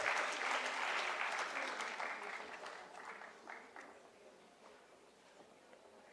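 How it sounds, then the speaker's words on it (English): Audience applause for dignitaries at the World Toilet Summit 2025, a steady wash of many hands clapping that starts full and gradually thins and fades over several seconds. "Let's have a round of applause for all these wonderful dignitaries."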